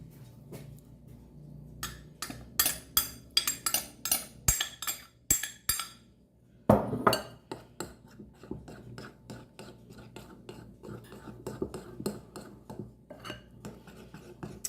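A spoon clinks and scrapes against dishes while blueberry banana bread is being made, giving a run of quick close metallic taps and rattles, a brief pause, then more irregular clinking throughout.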